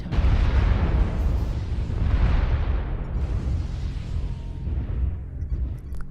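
Heavy booming blasts of missiles striking a Nova mech in MechWarrior Online, a loud rumbling burst that swells, dips and swells again before fading, with no talk over it.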